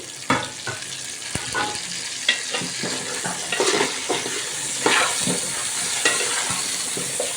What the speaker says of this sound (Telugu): సిమ్లో పెట్టి వేయించుతున్నాం కదా